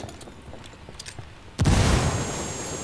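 A frag grenade bursts in the video game Ghost Recon Wildlands, a sudden loud boom after a quiet lead-in, followed by a long rumbling, hissing tail of debris.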